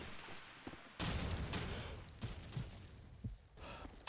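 Grenade blasts and gunfire in Call of Duty 2 during a Polish LAN championship match: a heavy sustained burst of shots and booms starts abruptly after a quieter opening, with further sharp impacts scattered through, loud and close.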